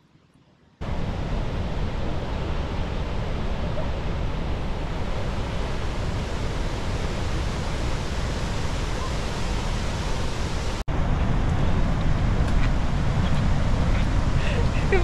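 Victoria Falls in Zimbabwe at high water roars as a loud, unbroken broadband wash of falling water with wind buffeting the microphone, growing still louder near the end while people talk beneath it.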